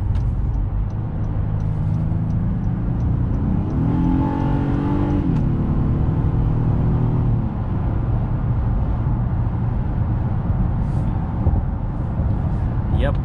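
A 2021 Honda Passport in sport mode accelerates onto the highway, its engine note climbing in pitch and then settling into a steady drone under road and cabin noise, with a voice talking over it.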